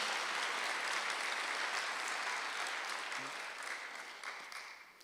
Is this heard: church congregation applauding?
yes